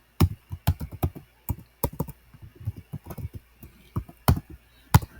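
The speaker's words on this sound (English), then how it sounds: "And whenever you're typing in your commands like that" Fingers type commands on a computer keyboard for an Arduino relay shield, close and crisp: irregular bursts of clicking keystrokes with brief pauses and a few louder taps, no talking.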